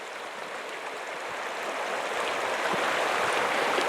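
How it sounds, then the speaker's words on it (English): The Pecos River flows beside a cabin in the New Mexico mountains in winter, a steady, moderately loud rushing stream that swells slightly, with no voices. "We're right next to the Pecos River,"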